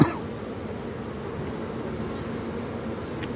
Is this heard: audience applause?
no